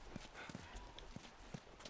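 Horse hooves clip-clop in The Last of Us video game, with a handful of soft, evenly spaced hoof falls set against a hissy, noisy game background.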